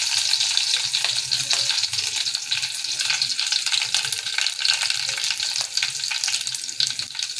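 Mustard seeds, garlic, curry leaves, onion and tomato frying in hot oil in a pot for a wet cashew vegetable dish, a loud, continuous sizzle with crackling spatters and occasional stirring.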